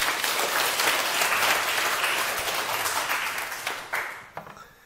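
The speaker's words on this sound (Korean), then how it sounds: "박수 한번 치세요" An audience claps in a sustained burst of applause that fills the room, loud at first and then thinning out into a few scattered claps before fading.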